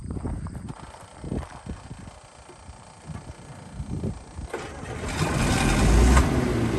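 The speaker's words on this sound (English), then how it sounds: "It's a John Deere 7720 turbo. I'll go ahead, I'll have the consignor fire it up" A John Deere 7720 turbo combine fired up at an auction demo: irregular clattering knocks as the engine cranks, then a low rumble that swells to a loud steady roar.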